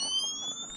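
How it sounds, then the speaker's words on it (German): A pair of steady high-pitched alarm tones beeps from the video game Morphine, sustained and fairly loud through the short moment with a low muffled rumble beneath. "ich erschrecke mich vor diesen Piepsen"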